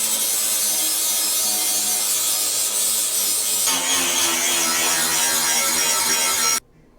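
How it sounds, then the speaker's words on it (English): A flap disc on an angle grinder works steadily on metal on a big garden tractor tow rig, a loud continuous abrasive whine that shifts pitch midway and cuts off near the end. "A little work with the flap disc, we get that cleaned right up."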